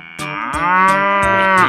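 A cow gives one long, loud, close moo. The rich, drawn-out bellow rises slightly as it goes, with faint tapping sounds in the background.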